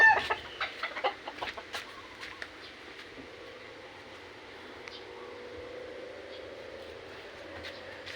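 Hens cluck in short bursts near the start, then the yard settles into a soft, steady background murmur with occasional faint calls.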